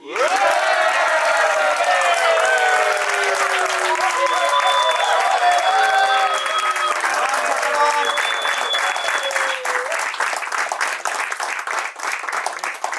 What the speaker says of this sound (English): Friends, please give a big round of applause for Director of Learning and Development, MILT Way, our beloved Daniel Jacob.